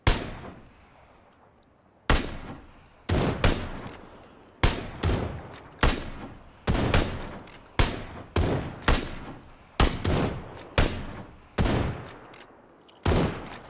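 Loud, sharp SKS rifle shots in a shooter game, about a dozen single reports spaced roughly a second apart, each ringing out with a short decaying tail and no talking.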